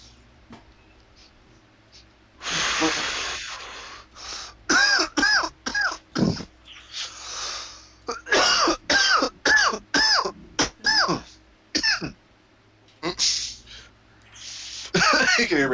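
A person coughs and clears their throat repeatedly in a run of harsh, loud bursts, with short pauses between clusters and no talk.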